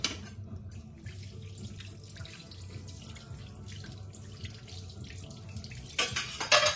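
Tap water runs into a sink while a ladle is rinsed under it, with soft clinks and splashes, growing louder and splashier near the end.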